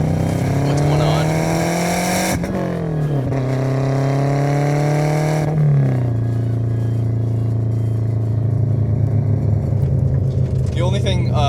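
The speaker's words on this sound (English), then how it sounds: "The only thing aftermarket about this car, as you can hear, is the exhaust. It is custom. It doesn't have any mufflers" A Subaru Legacy B4 twin-turbo with a custom exhaust that has no mufflers. The engine drones loud and close, its pitch climbing, dropping briefly, then climbing again, and it settles into a steady rumbling hum.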